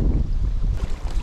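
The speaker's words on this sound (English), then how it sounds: "Woo, it's windy" Gusty wind buffets the microphone on a riverbank during winter catfish bank fishing, a loud low rumbling roar that swells and dips continuously with no talk.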